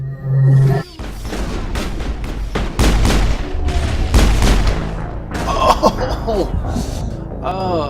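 Gunfire in a video game firefight with sniper fire, repeated booming shots and bursts in quick succession over a dense, loud mix of game audio, with a voice talking over it.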